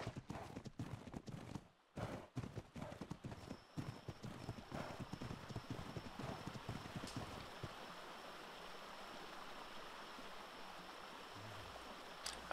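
Steady clip-clop of a horse's hooves while riding in the game Ark: Survival Evolved, a brisk regular rhythm that fades into running water and ambient wilderness sound.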